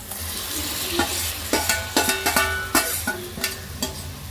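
Tomatoes stirred into a sizzling curry pan with onions, a spoon scraping and knocking the pan in a steady rhythm of repeated strokes over continuous frying hiss, close and loud.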